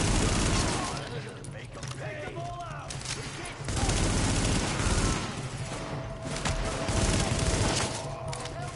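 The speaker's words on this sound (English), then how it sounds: "You can shoot the glass bottles." Rapid gunfire in The Division on PS4 as glass bottles are shot, with loud volleys of shots throughout and people talking over them.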